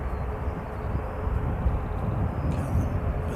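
A Qantas Airbus passing overhead, a broad steady roar of jet engine noise that rises slightly partway through, heard from the ground without talk.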